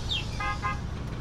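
In the OMSI bus simulator video game, a car horn sounds two quick toots in succession over a constant low engine and traffic rumble, with no speech.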